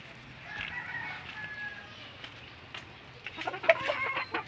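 Yellow Legged Hatch chickens in a small backyard coop, clucking and a faint crow at moderate distance, growing busier and louder toward the end.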